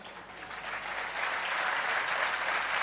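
A large audience claps steadily at a spiritual discourse, the applause swelling slightly and holding loud and continuous throughout, with no voice over it.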